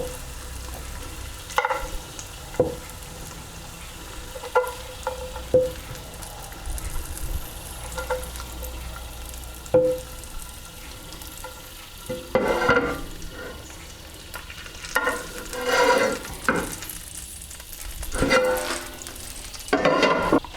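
Steak sizzles on a grill for a restaurant-style panini, a steady soft frying hiss punctuated by sharper pops and scraping stirs, with no talking.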